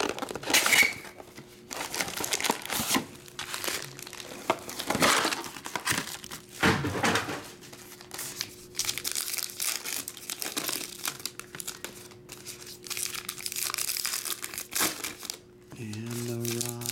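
A 2021 Diamond Kings baseball card pack being torn open, its foil wrapper crinkling and crackling in close bursts between stretches of quiet, with a person talking and a faint steady hum underneath.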